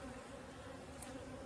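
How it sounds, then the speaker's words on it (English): Angry Africanized bees make a continuous, close, droning buzz, steady and unbroken, at a low overall level. "Wow, those bees are very angry for some reason."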